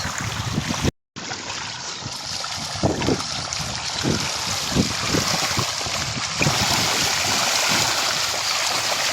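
Milkfish (bangus) splashing at the water surface during a morning feeding, a broad continuous rush of churning water with repeated bursts of splashes, fairly loud and close, over steady wind noise.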